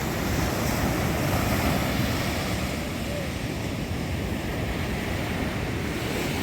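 Steady roar of sea surf on Moulay Bousselham beach on Morocco's northern coast, broad continuous wash of breaking waves with wind buffeting the microphone, no distinct voices.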